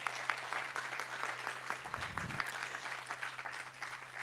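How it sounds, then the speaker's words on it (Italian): Applause from an audience at a book presentation, a sustained even clatter of many hands at moderate distance, with a brief low thump partway through and no speech. "vi chiederei un applauso"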